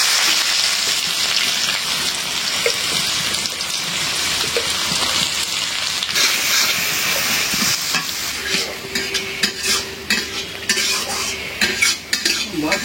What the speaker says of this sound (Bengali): এই যে এখন দিয়ে দিব এই তেলেই পেঁয়াজ।